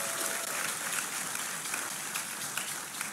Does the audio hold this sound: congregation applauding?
yes